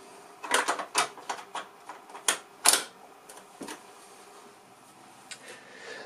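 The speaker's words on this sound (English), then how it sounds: "the repeat cassette simply pulls out of the side of the machine. Like this. And plugs back in again, thusly." A repeat loop cassette clicks back into the side of a 1971 Canon Repeat Corder L loop recorder, a quick cluster of sharp plastic snaps and clacks up close, then quiet with a couple of faint taps.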